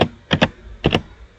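Keys on a computer keyboard are tapped in two quick pairs of clicks, close and crisp, with quiet gaps between them.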